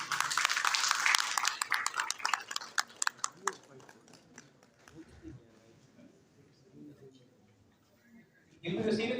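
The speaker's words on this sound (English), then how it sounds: "A huge round of applause for Ali Zain," An audience at a university book review competition in Pakistan applauds a poetry prize winner, a dense burst of clapping that thins into scattered claps before fading under murmuring voices.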